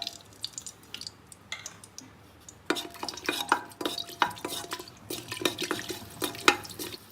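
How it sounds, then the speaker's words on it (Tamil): Green chillies frying in hot oil and ghee inside a pressure cooker, giving quiet crackles at first, then sharper spitting pops and stirring clatter that grow busier partway through. "இப்போ குக்கரில் எண்ணெய் ப்ளஸ் நெய் விட்டுக்கோங்க. அது சூடானோன்னே பச்சை மிளகாய் போட்டுருங்க"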